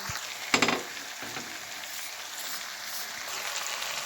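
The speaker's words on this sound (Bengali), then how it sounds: "আমি এতে দিয়ে দেবো এবার জল পরিমাণ মতো।" Water poured into sizzling masala in a pan, a brief burst of loud spattering followed by a steady bubbling hiss, close.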